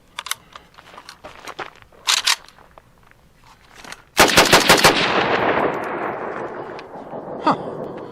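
Ruger Mini 30 or Mini 14 rifle firing Tula ammunition: a few sharp clicks and handling sounds, then a rapid burst of loud close gunshots followed by a long rolling echo and one later crack.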